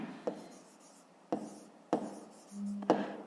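Pen strokes on paper while a fifth-grade math exercise is written out by hand, short scratchy bursts separated by pauses, close and quiet, with a brief low hum near the end.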